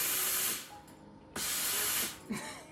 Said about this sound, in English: See how that thing is making steam as I was moving it?